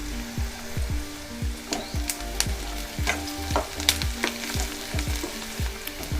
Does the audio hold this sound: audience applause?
no